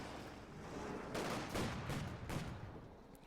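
Mortar shells land on a building in the Company of Heroes 2 real-time strategy game, a rumbling barrage of several overlapping explosive bursts and crackles, mid-distance and moderately loud over a continuous battle din, with no voices.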